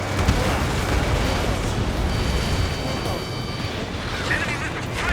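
Loud, rumbling missile explosion in the aerial combat video game Ace Combat 7: Skies Unknown, a dense sustained boom with crackling debris lasting several seconds amid battle noise.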